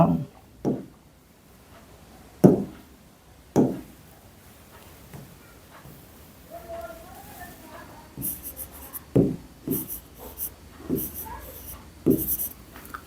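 Handwriting on a board during a maths lesson for tenth-grade students: scattered taps and scratchy strokes, some sharp and close, among quieter passages.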